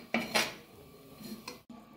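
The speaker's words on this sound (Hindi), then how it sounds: "आलू हमारे फ्राई हो गए हैं, इसको हम बाउल में निकाल लेंगे" Fried potatoes for a stuffed tomato curry are tipped into a bowl, with a few sharp clinks of metal utensils and dishes close by and a softer scrape between them.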